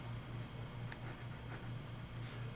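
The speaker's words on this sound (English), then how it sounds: "let's go ahead and put nib to paper on the Sheaffer" Sheaffer 500 Dolphin fountain pen with a medium nib scratching across a Clairefontaine writing tablet, a quiet, close, continuous faint scratch with a few soft ticks and no talking.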